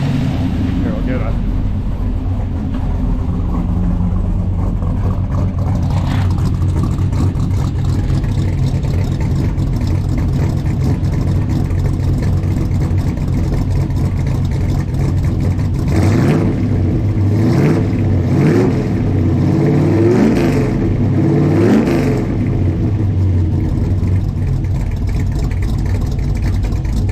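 A 1983 Pontiac Parisienne engine turns over and runs, loud and close, with rising revs toward the end and people talking over it.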